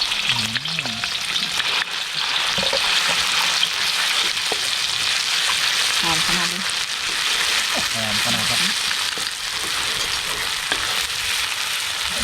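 Chili curry paste frying in a large pot for a Thai pork dish, a loud, continuous sizzle with stirring scrapes running throughout, while someone talks over it in spots.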